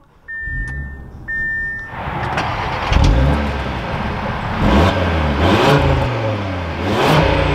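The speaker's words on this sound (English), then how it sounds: "Well, let's fire this up though. Take a listen to how the RS3 sounds." A 2024 Audi RS3 turns over and fires up, its engine catching with a loud burst and then settling into a strong idle broken by several sharp revs, each rising and falling in pitch, heard close and alone.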